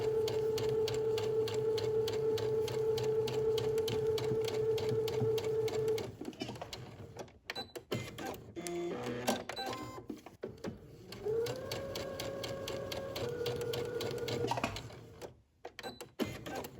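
Sewing machine running a regular stitch while making a shirt dress: a close, steady motor whir with rapid needle clatter for several seconds, then stops, with handling clicks before a second shorter burst of stitching.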